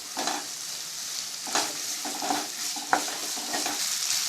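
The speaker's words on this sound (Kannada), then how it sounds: "ಈರುಳ್ಳಿ ಹಾಕ್ತಾ ಇದ್ದೀನಿ ನೋಡಿ. ಈ ಥರ ಮತ್ತೆ ಒಂದು ನಿಮಿಷ ಫ್ರೈ ಮಾಡ್ಕೋಬೇಕು." Chopped onions sizzle in a hot pan for gobi manchurian, a steady close frying hiss with a few stirring scrapes and clinks, with no talk.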